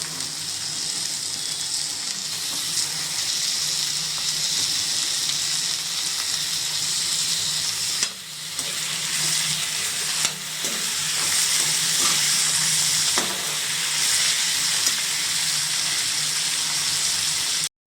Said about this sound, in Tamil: இது நல்லா வதங்கி வரட்டும்